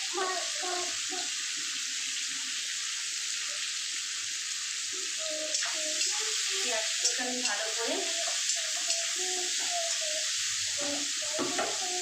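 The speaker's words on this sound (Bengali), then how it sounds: "ভালো করে ভেজে নেবো পেঁয়াজগুলো" Sliced onions, four medium ones cut lengthwise, fry in a pan for a chicken fry with gravy, with a steady broadband sizzle throughout and intermittent scraping stir strokes, close and fairly loud, with no talking.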